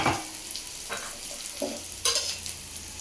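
Onions and boiled mutton stir-fried in a pan for mutton uppu kari, with a steady sizzle and several scraping stirs of a spoon against the pan, heard up close with no talk.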